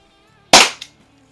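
A single sharp shot from an Umarex T4E TR50 .50 caliber CO2 revolver, loud and close, with a short burst of echo or impact just after and quiet around it.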